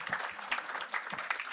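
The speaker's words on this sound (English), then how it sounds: "So let's give him a round of applause." Audience applause breaks out at an outdoor press briefing on a housing courts redevelopment, brisk, dense clapping from a modest crowd that runs continuously for a moment without any voices.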